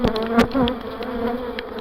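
Honeybees buzz steadily and loudly at close range during an inspection of a first-year hive, a continuous droning hum with a few louder individual bees passing near.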